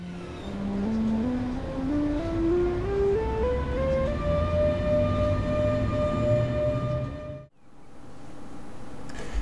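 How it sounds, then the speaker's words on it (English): A Railjet train hauled by a Taurus locomotive starts up and pulls away in a train simulator game, its electric traction motors whining upward in pitch through several steady stages and then cutting off abruptly, leaving a low rumble. "we start up the train, get everything ready and pull away"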